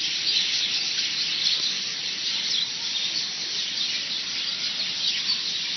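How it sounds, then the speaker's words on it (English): Many birds chirp and squeal together in a dense, continuous chorus while being fed from a stick held out to them, steady and fairly loud throughout with no talking. "look at all the birds"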